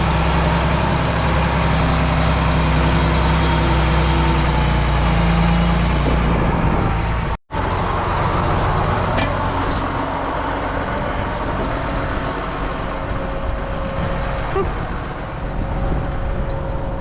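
A tractor engine idles steadily in a muddy farm field, a constant low rumble close by that keeps running with no change in rhythm.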